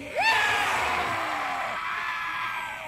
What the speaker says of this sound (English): Now your best screams.